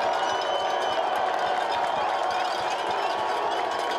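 A football stadium crowd at a college game, RPI against St. Lawrence, cheers and roars steadily throughout, a dense unbroken wall of noise from many voices.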